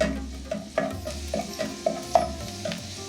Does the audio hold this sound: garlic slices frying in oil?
yes